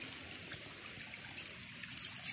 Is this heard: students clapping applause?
no